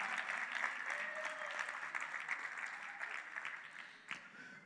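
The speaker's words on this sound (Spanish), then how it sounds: "Un fuerte aplauso a Gene y a Samu" An audience claps for an engaged couple at a talk, a dense, steady round of applause that fades slightly toward the end.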